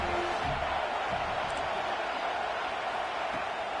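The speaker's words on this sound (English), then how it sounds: "Decibels rising as the crowd gets behind this defense on 3rd down" Stadium crowd in a college football video game roaring steadily behind the defense on third down, a dense, continuous wash of cheering with no breaks.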